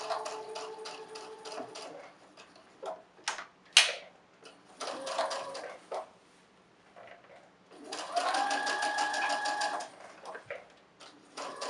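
A sewing machine stitches a fabric face mask with a wire nose piece in bursts of rapid mechanical whirring, pausing between runs with a few clicks and handling knocks, close and fairly clear.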